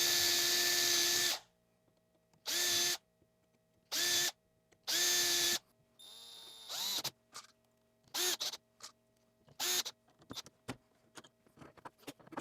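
A power drill drives screws to mount toggle clamps on a wooden router table sled for small parts and tenons. Several loud, short whirring bursts are separated by quiet pauses, followed by lighter clicks and handling noises.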